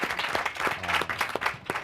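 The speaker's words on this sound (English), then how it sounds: "I want to give Randy a big round of applause" An audience at a panel of district and union teacher leaders gives Randy a round of applause, a dense, steady patter of many hands clapping together, fairly close and without any talk over it.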